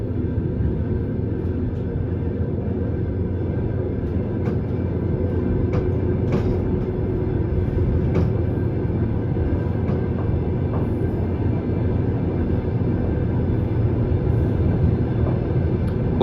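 An Almaty–Balkhash passenger train runs on the rails with a constant loud low rumble and rolling wagon noise, plus scattered faint clicks and knocks, with no talking.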